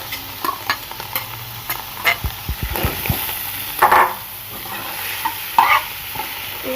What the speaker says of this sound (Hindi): फिर हम इसे फ्राई करेंगे।